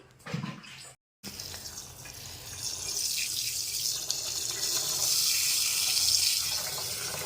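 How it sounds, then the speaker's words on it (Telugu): Rice, urad dal and fenugreek seeds are washed in water: a brief handling noise and a short gap, then a steady rushing pour of water that grows louder and continues alone. "ఫస్ట్ ఇలా మామూలు వాటర్తో కడుక్కోవాలండి"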